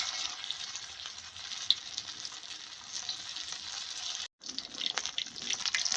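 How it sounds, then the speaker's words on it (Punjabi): Aloo tikki potato patties fry in hot oil, a steady crackling sizzle with fine bubbling that cuts out briefly, then resumes just as strong. "ਹੁਣ ਆਪਾਂ ਤੇਲ ਦੇ ਵਿੱਚ ਛੱਡ ਦਿਆਂ ਜੀ ਟਿੱਕੀਆਂ ਨੂੰ ਬਿਲਕੁਲ ਹਲਕੇ ਹੱਥਾਂ ਦੇ ਨਾਲ"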